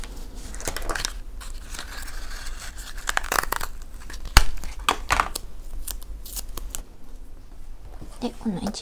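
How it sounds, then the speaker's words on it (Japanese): Double-sided tape is peeled for a Hobonichi Cousin paper planner, making close, intermittent bursts of ripping and crinkling that are scattered over several seconds. "この両面テープを使います"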